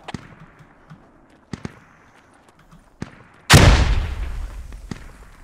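A frag grenade detonates in a squad-based shooter game, one loud sudden blast with a rumbling tail, preceded by a few sharp distant gunshot cracks.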